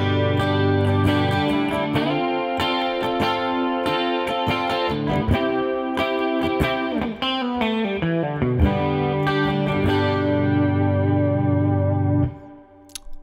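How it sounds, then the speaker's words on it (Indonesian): PRS SE Custom 24 electric guitar (2018) played clean through humbucker pickups, with loud strummed chords and picked runs ringing on under light effects, then cutting off sharply near the end; no voice. "Suaranya masih kita dengarkan yang clean-nya dan dengan konfigurasi humbucker"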